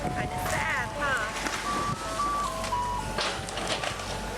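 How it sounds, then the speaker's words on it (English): An ice cream truck's jingle plays as a string of steady melody notes under close talking, with wind noise across the microphone, at the site of a home demolition. "It's nice to have the ice cream truck here, though."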